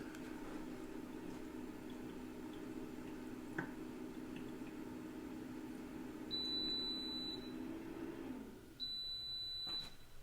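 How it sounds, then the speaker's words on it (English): An Airversa Humelle AH1 smart humidifier gives two short, high electronic beeps a couple of seconds apart as it enters pairing mode, loud and close over a steady low hum, which drops out just before the second beep. "press both buttons at the same time for about 5 seconds until we hear 2 beeps"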